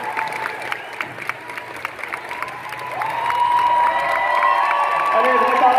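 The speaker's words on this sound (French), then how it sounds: "il veut surtout aussi que toute la salle, vous les applaudissiez, s'il vous plaît" An audience in a hall at a Paris manga and sci-fi convention panel applauds and cheers, first in a rhythmic clap then swelling into loud sustained applause and whoops, with a voice speaking over the crowd.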